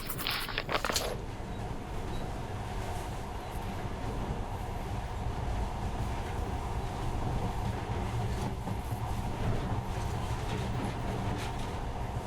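Monorail train running in the video game Metro Last Light Redux, a steady low rumbling drone with faint rattling, continuous and fairly even throughout, no voices.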